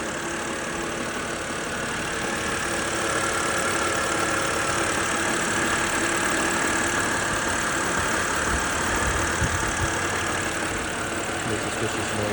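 A 2007 BMW 328i wagon engine idles loudly after a cold start, a steady continuous drone with a dense, even roar held throughout and no clear voices over it.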